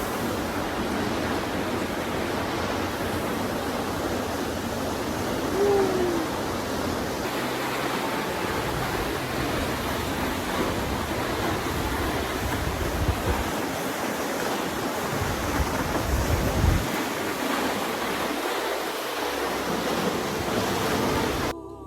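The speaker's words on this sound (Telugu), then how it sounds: "ఈ వాటర్ ఫాల్ ఇంకో అద్భుతం" Continuous rushing water roars throughout, a broad steady wash of sound from a large waterfall on the Trail of Ten Falls, Silver Falls State Park, Oregon, where a path is cut through a cave, with slight wind buffeting and no voices.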